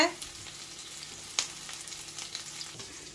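Small onions sautéing in oil in a pan for a brinjal curry, a quiet continuous sizzle with a few light scrapes and taps of stirring.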